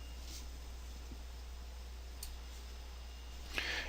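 A computer mouse clicks the OK button in trading software: a few faint, sharp, isolated clicks spaced seconds apart over a low steady hum.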